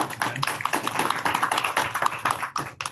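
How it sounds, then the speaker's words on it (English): An audience at a privacy seminar applauds after the talk, with dense, uneven clapping from many hands at moderate level and no speech over it. "Let's give a big round of applause to"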